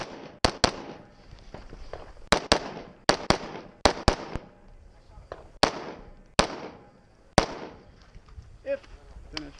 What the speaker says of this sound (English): instead I re-engage the humanoid target that I already shot